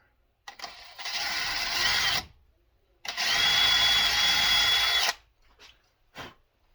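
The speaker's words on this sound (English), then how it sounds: "Let's drill a hole about right" A power drill bores a hole in a cigar box guitar body during a simple home build, two loud sustained whirring bursts of about two and four seconds separated by a pause, followed by short faint clicks.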